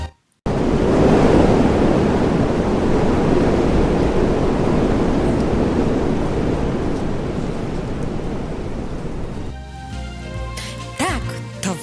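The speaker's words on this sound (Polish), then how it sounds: "Tak, to wiatr." Strong wind rushes loudly and steadily for about ten seconds, a broad close roar that fades toward the end as softer clinking and tapping sounds take over.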